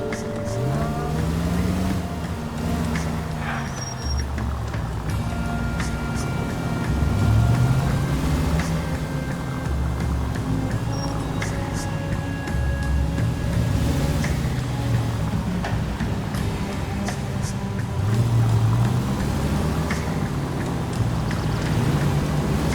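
Car driving in LA Noire, a steady engine drone with rising and falling revs and road rumble, continuous and moderately loud.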